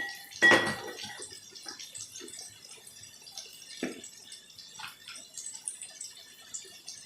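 A metal lid comes off a pan of Bengali fish curry with a sharp clank, followed by quieter scrapes and clinks as spices are stirred in, all fairly soft and close.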